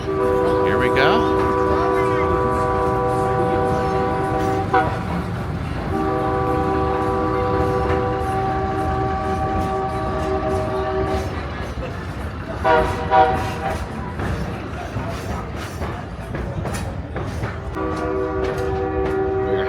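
Durango & Silverton narrow gauge train pulling out of the station, with steady rolling rumble and a sustained multi-tone horn sounding several times, long blasts near and loud, with brief pauses between.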